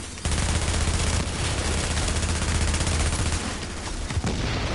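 Heavy automatic gunfire in The Division rattles loud and close in a continuous burst of rapid shots, with layered weapons overlapping and only a brief dip near the end.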